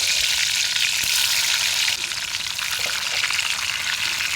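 Onions fry in oil in a pan over a gas flame outdoors in a forest, a loud steady close sizzle with fine crackling that briefly dips in level midway, no voices.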